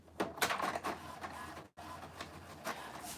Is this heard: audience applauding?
no